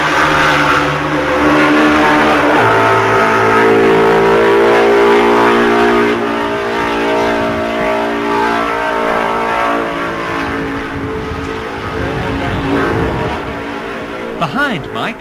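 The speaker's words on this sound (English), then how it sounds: "On lap 5 at Stella Maris, Hailwood's MV sounds most peculiar" Mike Hailwood's MV Agusta racing motorcycle on lap 5 at Stella Maris, its engine running peculiarly, a loud sustained multi-toned drone that wavers and shifts pitch throughout, close and dominant.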